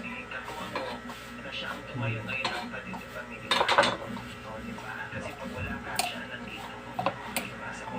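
A spoon clinks and scrapes against a bowl while ginger and onion are stirred into kilaw, with a steady run of small metallic taps and one brighter clatter midway, close up and fairly quiet.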